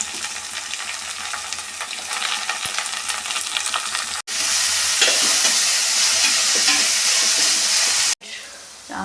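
Sliced onions frying in a pan: a continuous close sizzle that jumps louder after a brief cut, with light stirring scrapes and no talk.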